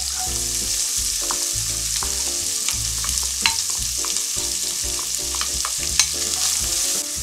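Sausages and onion fry in a hot pan, loud close crackling sizzle running continuously with scattered pops and a couple of sharper utensil taps against the pan.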